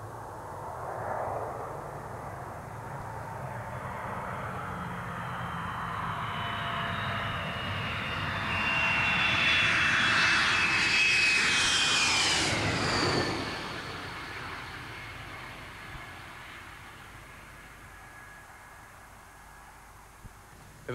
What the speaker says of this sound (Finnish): hävittäjien syöksyessä taivaalta tilapäiselle kentälleen